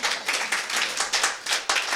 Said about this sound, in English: give a hand clap for that